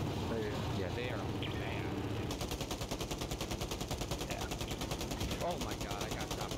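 Rapid automatic gunfire from the Warzone video game rattles steadily under players' voices, with a dense burst starting partway through.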